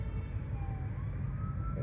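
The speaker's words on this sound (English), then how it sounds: "them sirens gonna get fucking loud" A wailing emergency siren rising and falling steadily over a low rumble of traffic, moderately loud and continuous.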